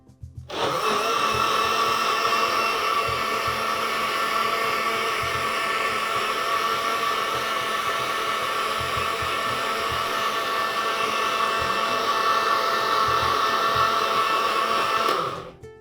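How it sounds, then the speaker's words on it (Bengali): Electric blender whirring through a mango and papaya drink, a loud, steady motor drone held for about fifteen seconds before cutting off abruptly, with no talk. "আবারও ব্লেন্ড করে দিচ্ছি।"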